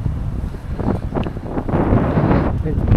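Strong wind gusting outdoors in Bratislava, loud low-frequency buffeting against the microphone that swells and stays heavy, with people talking faintly underneath.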